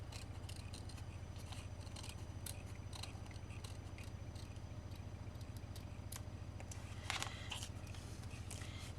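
Scissors trim around the edge of a layered, glued craft mushroom, making faint, quick, irregular snips and clicks over a low steady hum, with no voices.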